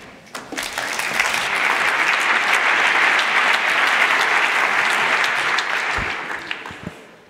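Sustained audience applause at an employers' education award ceremony in Germany, dense clapping swelling quickly and holding steady before tapering off near the end.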